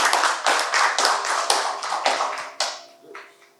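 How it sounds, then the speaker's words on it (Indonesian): Applause from an audience at an Indonesian formal gathering, following a call for claps before the secretary-general's speech. Bursts of hand claps with a loose rhythm build and then fade out, close and fairly loud, with no talking. "Tepuk tangan semuanya."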